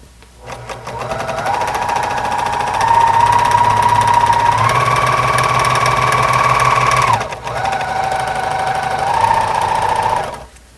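Sewing machine stitching in long, steady, fast runs, loud and close, with a brief pause midway before it resumes and then stops.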